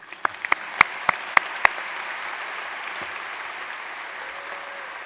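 Commencement crowd at UCF applauding, starting with a few loud individual claps up close before settling into a broad, sustained wash of distant clapping from a large audience.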